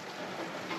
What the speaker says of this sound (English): it's literally raining outside